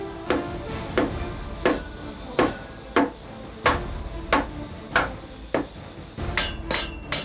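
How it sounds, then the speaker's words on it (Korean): Heavy hammer blows drive thick new wooden beams into joinery during an old country house remodel. About a dozen loud, evenly spaced strikes ring close by, with a quick double tap near the end. "온몸이 울릴 정도의 세찬 망치질."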